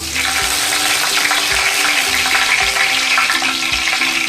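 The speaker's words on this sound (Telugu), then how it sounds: "నూనె కాగింది, ఇప్పుడు ఆవాలు వేద్దాం" Mustard seeds hit hot oil for an Andhra-style fish curry, raising a loud, steady sizzling hiss close up with faint crackling, and no voices over it.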